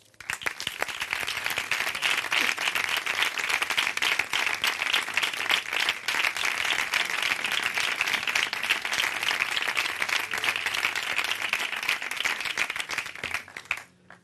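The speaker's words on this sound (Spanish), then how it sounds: "Yo voy a pedir un fuerte aplauso para David Carmona." An audience at a flamenco forum gives guitarist David Carmona a loud round of applause, dense continuous clapping from many people that holds steady for about thirteen seconds before stopping abruptly, with no talking.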